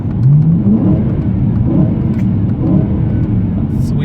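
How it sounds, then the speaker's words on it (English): A V8 car engine revs loudly and continuously, rising and falling in pitch with a deep throaty rumble, close by. "Sweet V8."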